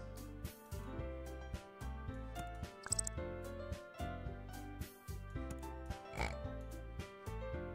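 A cartoonish pig oinks in the Super Auto Pets video game, popping up briefly a couple of times over steady, busy game music that plays throughout.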